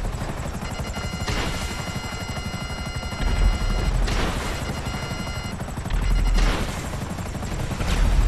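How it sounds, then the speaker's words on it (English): A helicopter in GTA Online crashes into a palm tree amid heavy game noise: a steady rotor chop, bursts of rapid gunfire-like cracking and low thuds from impacts, all loud and continuous. "Palm tree and helicopter do not mix."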